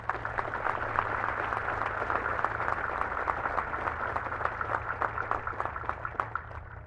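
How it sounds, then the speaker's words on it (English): Steady applause from a large audience at a military cadet graduation ceremony, dense crackling hand claps sustained throughout with no voices over it. "please join me in giving our awardees a round of applause"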